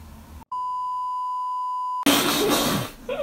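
A steady electronic beep from a mobile phone inside GTA 5 Online holds for about a second and a half, then gives way to loud, busy game noise and background sound.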